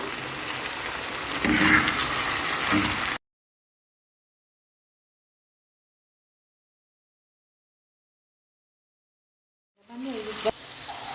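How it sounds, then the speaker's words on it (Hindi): Tomatoes with ginger-garlic paste sizzle and crackle steadily in a hot tawa pan, then cut to silence before faint sizzling returns near the end. "टमाटर को सॉफ्ट होने तक पकाएंगे"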